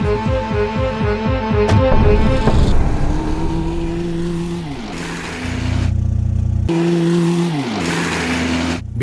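A car drives off, its engine revving loudly with pitch climbing through several surges before easing, close and dominant, with no voices.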